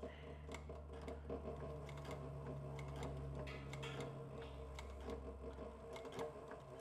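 Sewing the leather of a Pony Express satchel, with a sewing machine running in steady mechanical bursts under a low hum, punctuated by sharp ticking clicks, heard quietly with soft voice-like sounds in the background.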